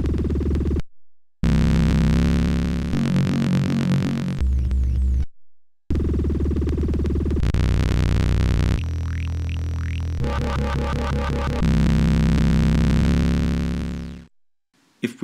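A fraAngelico digital synth cycles through loud preset sounds, droning tones, buzzy chords and warbling sweeps, switching abruptly with short silent gaps between them.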